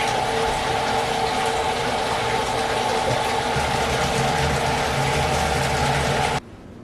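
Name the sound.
bathtub filling with water for a bubble bath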